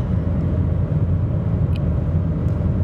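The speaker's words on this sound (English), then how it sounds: "I am driving home from work" Inside a car driving on the road, a steady low engine and road rumble drones continuously and evenly.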